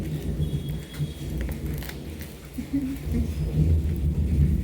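Rain falls during a thunderstorm, with low rolling thunder rumbling and swelling beneath a faint, steady patter of rain.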